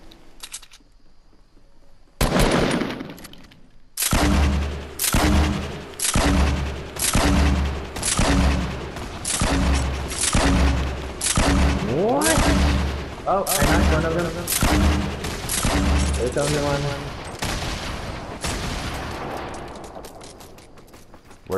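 Fortnite gunfire rings out as a steady series of loud, evenly spaced single shots roughly once per second, each sharp and close, continuing for around twenty seconds after a short quiet lead-in.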